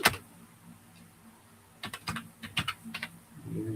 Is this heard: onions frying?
no